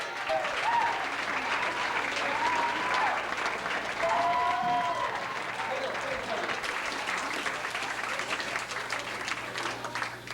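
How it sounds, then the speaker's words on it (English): An audience claps at a comedy night in the Rhode Island College coffee grounds in Providence. The applause is dense and sustained across the room for about ten seconds, with scattered voices and cheers mixed in. "Give yourselves a round of applause for Rhode Island College."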